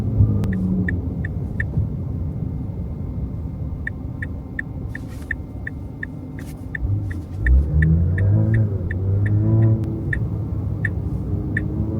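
A Tesla driving on FSD v14.2 with a steady low road rumble and engine-like hum, a brief swell as it pulls away, and a regular ticking indicator clicking through much of the drive.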